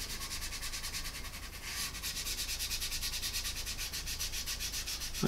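Steady rhythmic rubbing of sandpaper on a painted surface, close and continuous, a quick regular back-and-forth scratching with no voice.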